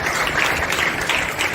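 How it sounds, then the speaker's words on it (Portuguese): A church congregation applauds continuously in a dense, even wash of clapping, moderately loud and sustained throughout the short moment. "A igreja pode aplaudir a Jesus."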